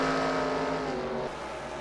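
A race car engine drones loudly during a spin in an IndyCar racing video game at Long Beach, a sustained engine tone that drops in pitch and eases off partway through, with no talk.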